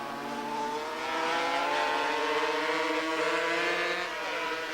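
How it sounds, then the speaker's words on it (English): Superbike racing motorcycles from 1984 passing through a chicane, several engines whining at high revs with shifting pitch, steady and fairly close throughout. "Going through the chicane now, that's Haslam, then it's Gardner, then it's Ewan."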